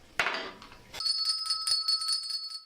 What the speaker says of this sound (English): Now, where's my bell?